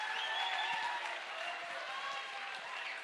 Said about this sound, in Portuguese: Vamos dar uma salva de palmas para o Miyakoto para a gente começar a conversa.